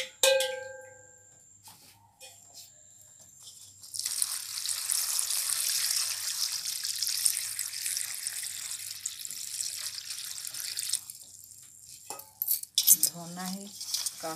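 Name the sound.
pouring water into food while cooking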